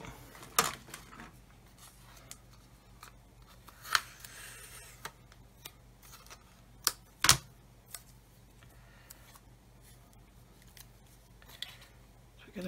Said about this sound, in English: So get a piece of masking tape on there, pull that back like so, that'll hold it.